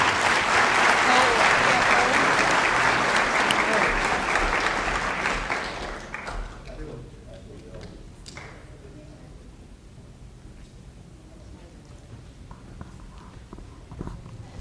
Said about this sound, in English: Let's give Carly a round of applause.